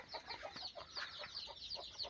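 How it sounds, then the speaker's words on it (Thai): Chickens at a rural house that also keeps ducks give a run of soft, repeated clucks at close range, quiet and irregular, with no voices. "ไก่ก็มีเด้ครับบ้านนี่ เลี้ยงเป็ดแก้วก็เลี้ยงไก่พี่น้อง"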